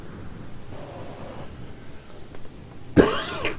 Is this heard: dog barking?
no